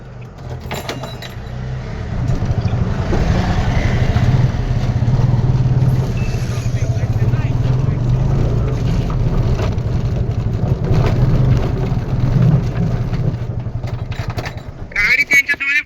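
A four-wheeler engine in the Free Fire video game, a steady loud rumbling drone running through most of the stretch, with a player talking over it.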